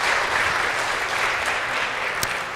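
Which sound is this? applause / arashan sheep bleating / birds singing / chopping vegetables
applause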